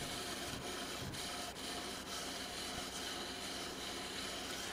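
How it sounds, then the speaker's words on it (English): Sanding down a wooden axe handle produces a quiet, continuous rasping hiss of abrasive on wood, with faint rhythmic strokes running throughout. "But I just start sanding it down"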